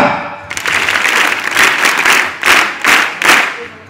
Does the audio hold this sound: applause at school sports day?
yes